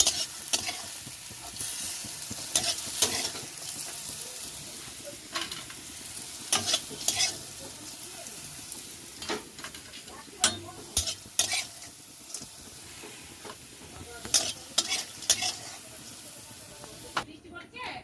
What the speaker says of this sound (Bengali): আলুটা আমি সুন্দর করে ভেজে নিয়েছি